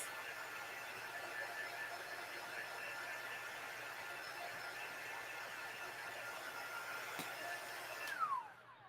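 A craft heat tool blows air in a steady, even whir that runs throughout, loud and close, with a faint high squeal and a brief bump in level near the end as it is switched off.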